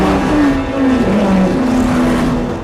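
Red race cars roar past in a Ferrari period racing drama, a loud engine note whose pitch swells and dips steadily with no talking over it.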